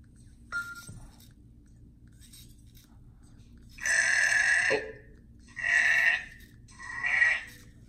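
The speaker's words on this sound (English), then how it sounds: "Alexa, what sound does a sheep make?" Smart speaker playing a recorded sheep sound, three loud bleats in quick succession near the end, with faint indoor background noise and a brief tone earlier.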